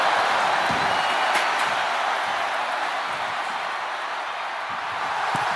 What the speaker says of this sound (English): And now Bianca getting the crowd involved here.